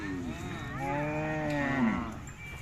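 A Khillar bull at a village fair moos in a long, low, wavering bellow lasting about two seconds, close and loud, with no talk.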